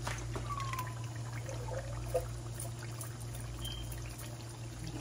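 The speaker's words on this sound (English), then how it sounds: "Pour it in my pot." Canned black bean soup pours from an opened can into a cooking pot, giving a brief soft glugging trickle near the microphone over a steady kitchen hum, with no talking.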